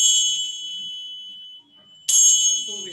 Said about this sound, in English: This is the cymbals. We call it as a kenshao or shakuryao.